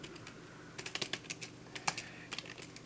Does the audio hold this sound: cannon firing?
no